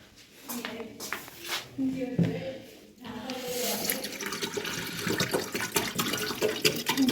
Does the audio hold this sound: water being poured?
yes